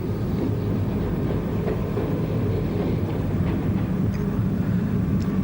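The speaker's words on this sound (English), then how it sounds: "The railcar swings round the curve and into Wofferton station." A 1950s-60s British Railways railcar swings round a curve into Wofferton station, a steady low rumble with wind buffeting the microphone and no voices throughout.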